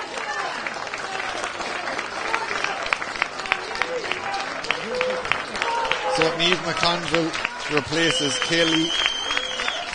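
A crowd applauds as a substitute comes on at an Electric Ireland Minor C All-Ireland Championship Final, a steady patter of clapping under a commentator's continuous talk.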